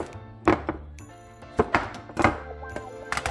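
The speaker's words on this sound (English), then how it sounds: "I cut up garlic and onion" A knife chops garlic and onion on a board in a home kitchen, a few sparse, soft thunks landing irregularly over quiet background music.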